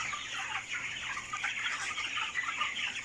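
Broiler chickens 25 days old on a farm cluck and chatter steadily as a dense flock, a continuous close murmur of overlapping calls with no pauses.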